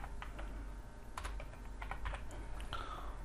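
Typing a folder name on a computer keyboard, a quick irregular run of close, quiet key clicks in short bursts.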